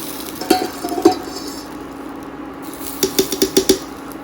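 Pakoras dropped into a pot of kadhi, giving a few soft separate splashes and clinks near 0.5 and 1 seconds, then a quick run of five or six plops near the end over a low steady simmer.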